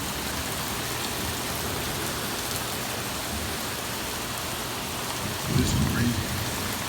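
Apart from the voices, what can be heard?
heavy rain and thunder in violent thunderstorm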